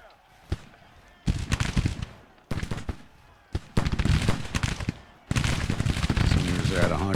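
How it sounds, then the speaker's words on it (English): Bursts of musket volley gunfire from a Civil War battle in the strategy game Grand Tactician: The Civil War, several loud crackling fusillades separated by brief quieter gaps. "This is one volley."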